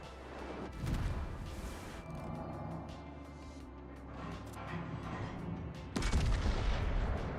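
Naval shells fire in a World of Warships battle, with two heavy booming salvos, one near the start and one near the end, and a low rumbling tail between them.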